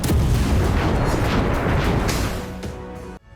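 Ukrainian army artillery fires in a loud, close, rumbling blast with a booming decay lasting about three seconds before cutting off abruptly.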